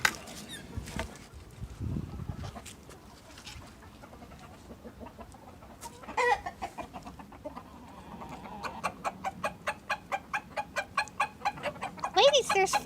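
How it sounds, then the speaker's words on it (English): A rooster gives his high-pitched excited food call to his hens, a run of rapid repeated clucks and squeaks that quickens into a regular pulsing series, with scattered bird sounds and a person talking nearby. "their rooster gets a real high-pitched thing to let his ladies know that there's food."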